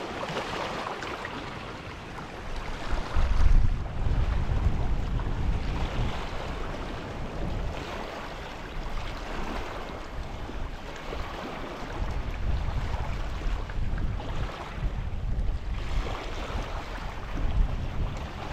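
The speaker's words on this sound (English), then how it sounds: "that amazing sound of the water coming in. It's actually not coming in, it's going out" Waves wash out over a Scottish beach during Storm Bert, a continuous rushing surge with heavy wind rumble against the microphone, steady and close, with no talking.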